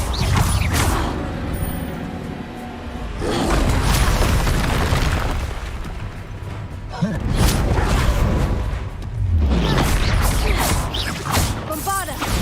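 Explosion spells, Confringo and Bombarda, go off in a Harry Potter video game as a run of loud booming blasts with crashing and mechanical rumble, several bursts in a row at close range. A voice comes in between them.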